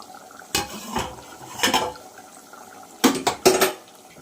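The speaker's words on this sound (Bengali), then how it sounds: "আমি এবার দেখি আমার মাংসের ঝোল কতটা আছে, একটু দেখতে থাকি, সরাটা আলগা করে দেখি" Metal pot lid lifted off a pot of goat curry cooking on the stove, giving a few sharp clanks and scrapes in two separate bursts, close and moderately loud, with no talking.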